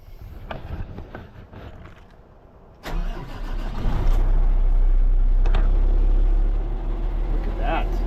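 A Kenworth truck engine is started with the key: a brief crank catches at about three seconds and settles into a loud, deep rumbling idle close by, with people talking over it.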